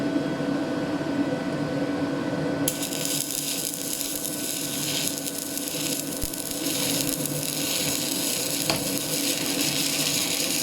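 Steady crackling buzz of a GYS Eazymig 180XL-4 MIG welder fusing two metal parts, a continuous close hiss and sputter that starts abruptly and runs unbroken over a background hum.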